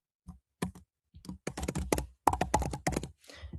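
Typing on a computer keyboard during a youth advisory council meeting, with soft, irregular bursts of keystrokes and clicks that grow into quick runs close by, quiet and with no talking.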